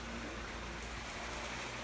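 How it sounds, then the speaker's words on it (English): Rain falling: a faint, steady hiss of rainfall that holds evenly throughout with no voices. "Rain's kind of getting loud"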